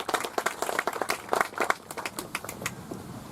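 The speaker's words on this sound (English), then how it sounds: "Big round of applause for Jason." An audience claps at an outdoor wreath laying ceremony in Northampton Township, a dense, moderately loud patter of many hands that continues steadily throughout.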